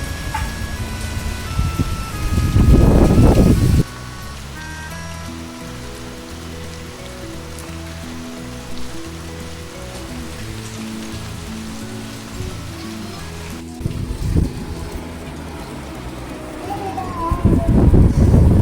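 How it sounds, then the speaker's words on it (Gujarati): Light rain patters steadily while a tinkling electronic melody plays, with loud voices at the start and end. "અત્યારે વરસાદ ચાલુ થઈ ગયો થોડો થોડો."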